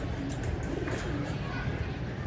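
Pigeons cooing on a rooftop loft, soft low rolling coos under steady broadband noise and a talking voice, close by and continuous.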